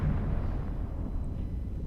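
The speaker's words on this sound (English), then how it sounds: "There's an explosion happening down there." A deep, sustained rumbling explosion in the space game EVE Online, heavy low-end roar that stays loud and steady for the full two seconds with no talking over it.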